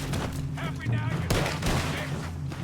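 Pistol shots crack out in Red Dead Redemption 2 amid a noisy firefight, with a sharp report near the middle over steady background rumble and a few voices.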